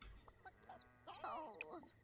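A hen chick in The Sims 4 clucks in a few short, bright chirping calls spread through a quiet moment, with soft background game music and no speech.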